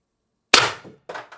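An airsoft gun, an IntruBuster Gen 2 fitted with a drum magazine and cricket stock, fires a single sharp shot of 8-gram ammo, loud and close, with a brief mechanical rattle afterward.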